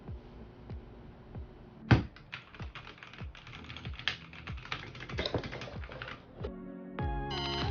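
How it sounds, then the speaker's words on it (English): Typing on a Drop SHIFT mechanical keyboard with a number pad: close, crisp clacking keystrokes in irregular bursts, with a few heavier thocks, heard alone without voices. "I wanted something mechanical and with a number pad, so I went with the dropshift mechanical keyboard"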